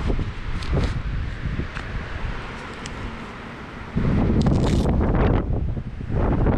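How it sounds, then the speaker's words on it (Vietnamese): Strong gusty wind at Cà Ná beach in Ninh Thuận roars and buffets a microphone, with louder blasts surging in waves and faint rustling beneath, and no speech. "gió rất là dữ. Gió mà gió nó giật từng cơn luôn á."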